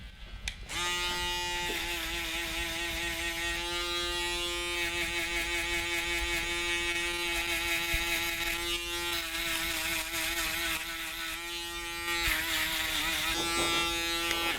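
An electric shaver trims hair for a skin fade combover, a steady close buzzing hum held for the whole stretch with slight shifts in pitch as it moves across the head; no talking.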